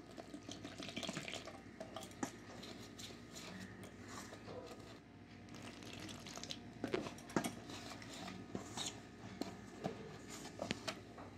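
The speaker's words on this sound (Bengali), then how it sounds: "এবার আমি অল্প অল্প জল দিয়ে দিয়ে ভালো করে মাখিয়ে নেব" Small amounts of water splashing into jalebi batter of flour and yogurt while it is kneaded by hand, with close, intermittent trickles and wet squelching over a steady room hum.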